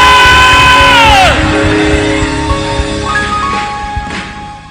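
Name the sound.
congregation screaming and shouting on request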